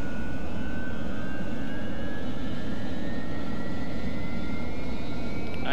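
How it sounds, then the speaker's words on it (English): Aircraft engine in a video game campaign: a loud, continuous droning roar with a thin whine that slowly climbs in pitch, steady throughout and without speech. "Oh, I haven't started my friggin' engine yet."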